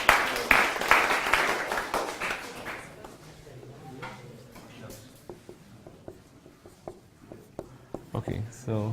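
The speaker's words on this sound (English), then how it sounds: "let's give him some applause" A short burst of applause for a student in a university lecture hall, loud at first and then fading into scattered taps and faint speech.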